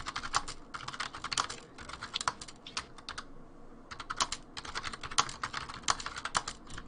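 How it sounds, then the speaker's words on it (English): Rapid bursts of computer keyboard typing clatter in uneven runs with short pauses, close and fairly quiet, with no talking. "What is you typing?"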